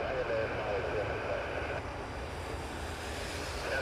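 A Boeing 777-300 heavy jet airliner bound for Heathrow roars at Toronto Pearson Airport on a rainy New Year's Eve, a steady broadband engine rush heard from a distance, mixed with wind.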